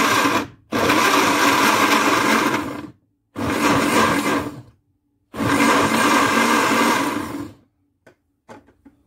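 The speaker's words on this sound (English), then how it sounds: "I'm blending the orange and the skin and some milk." A blender loudly whirs through an orange with its skin and some milk in three separate bursts of roughly two seconds each, separated by short silences, followed by a few faint clicks at the end.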